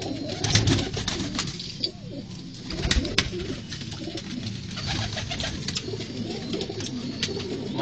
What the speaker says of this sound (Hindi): एक एक कबूतर नजर पे आते हैं।